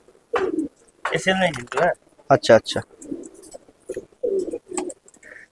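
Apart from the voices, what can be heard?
Punjabi Malwai pigeons cooing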